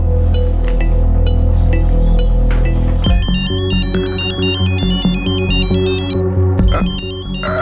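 A phone rings on an outgoing call, first a dense burst of sound, then a repeating electronic ringtone melody with a steady pulsing pattern, loud and close with no talk.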